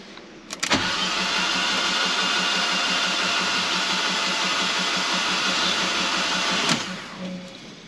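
A Fiat 500 TwinAir engine cranks on the starter with the fuel pump disconnected, giving a loud, steady whirring churn that lasts about six seconds without catching, bracketed by sharp clicks at start and stop.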